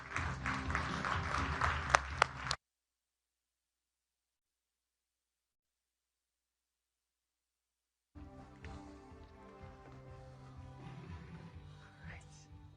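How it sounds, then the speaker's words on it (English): Audience applause at a Reuters NEXT conference in New York, steady clapping at moderate distance that cuts to silence partway through, then resumes as a continuous wash. "Give him a round of applause."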